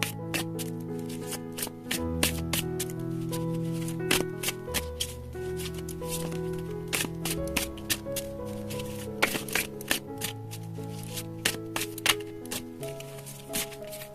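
Tarot cards are shuffled and drawn by hand, producing repeated crisp riffling and snapping clicks at close range over a soft sustained musical backdrop, with sharp card slaps recurring irregularly.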